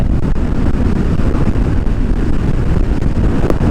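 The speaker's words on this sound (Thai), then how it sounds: "ลมแรงมากนะ" Strong wind roars and buffets against the microphone while riding a Yamaha XMAX 300 scooter on a road, a loud, steady rushing rumble with no voices.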